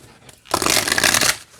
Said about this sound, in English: And they shuffle great this way too.